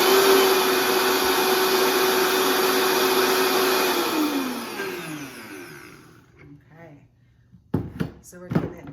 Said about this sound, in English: Let's blend one more time.